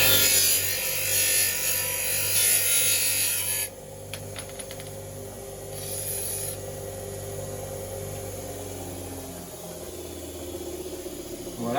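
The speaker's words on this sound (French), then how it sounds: "c'est une machine tout bêtement pour couper les shafts et pour les poncer" A shop machine cuts golf club shafts with a loud, steady grinding whir that runs for a few seconds, then drops to a lower humming drone as the cut finishes.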